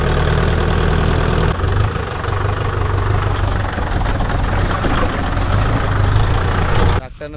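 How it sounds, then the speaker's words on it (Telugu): Farm tractor engine idling in the field, a steady loud low rumble with faint knocking that runs throughout and cuts off abruptly near the end. "మళ్ళీ మన ట్రాక్టర్ వేసుకొని ఇంకో దగ్గరికి అయితే పోతున్నాం."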